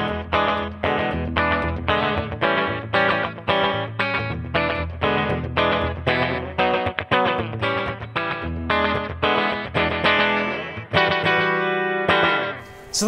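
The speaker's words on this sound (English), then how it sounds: "So I'm gonna rock a slapback echo on this pedal and retire this replicator." An electric guitar runs through a Boss DD-3T digital delay pedal set for rockabilly slapback echo, with a fast, driving string of picked notes, each carrying a short, tight repeat, loud and alone until a final ringing strum.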